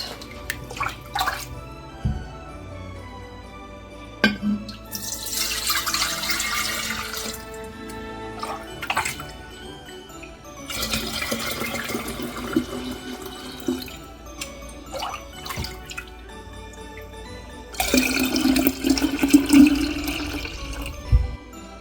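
Homemade non-alcoholic sorrel drink, sweetened with lime, ginger and sugar, poured out in three separate splashing bursts with quiet gaps between them, close and fairly loud, with no talking.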